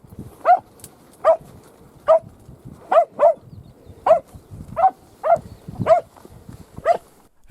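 Podengo hunting dogs bark while tracking rabbits in wet countryside after morning rain, sharp single yelps repeating about every half second to second, close and fairly loud, with no talk over them.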